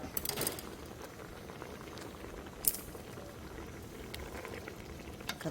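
Water with pandan leaves bubbles at a steady, quiet boil, a continuous soft burbling with one brief brighter splash partway through.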